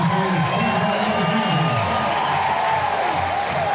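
A crowd at a college baseball game between Vanderbilt and Auburn cheers and shouts, a loud continuous roar with scattered whoops and a few voices talking in the mix.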